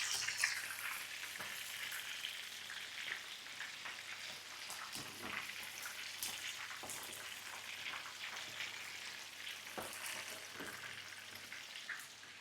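Country chicken frying in a pan, a steady, faint hiss of oil with constant fine spattering and popping crackles throughout, no voices over it.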